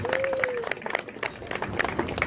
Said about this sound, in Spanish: Un aplauso, Felipe, en guitarra.